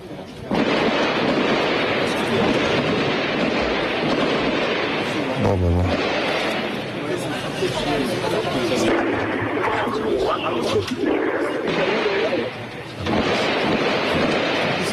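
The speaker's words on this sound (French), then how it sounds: "Des rafales extrêmement nourries" Heavy bursts of gunfire rumble and crackle through dense, steady noise, with a voice talking over it, during the live-broadcast police siege of Mohamed Merah in Toulouse.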